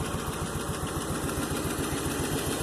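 A 1958 Plymouth engine idles, belching smoke, with a steady, evenly pulsing low rumble that holds at a constant level throughout.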